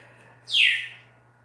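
One short, bright chirp from a pet bird, close and clear, rising sharply and then fading over a faint steady hum.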